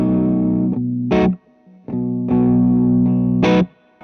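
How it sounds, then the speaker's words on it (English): Electric guitar played through a Two Rock Classic Reverb amplifier with the bypass switched off, sounding alone in sustained distorted chords and ringing notes, with two brief bright strummed accents and a short pause between phrases. "You can hear what a difference the bypass on the classic Reverb makes."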